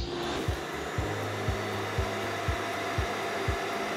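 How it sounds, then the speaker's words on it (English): A TP-Link Tapo RV30 Plus robot vacuum dock auto-empties dust with a loud, steady suction roar, marked by regular soft thumps about twice a second. "So right now it's emptying the dust. It's a bit loud and it will only last for a few seconds."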